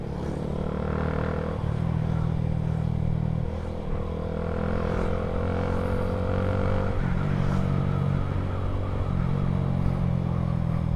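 Traffic noise on a road, with engines rumbling and revving at close range and shifting in pitch as vehicles move past, a steady loud mix with some clatter.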